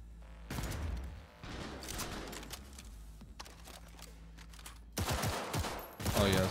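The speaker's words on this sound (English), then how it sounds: "it's the auto pistol" Rapid bursts of auto pistol fire in the Cyberpunk 2077 video game crackle loudly in several clusters, with a dense volley at the end and game voices mixed underneath.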